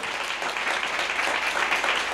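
Lively applause from a congregation at a religious talk, many hands clapping steadily at moderate volume through the whole moment with no speech over it.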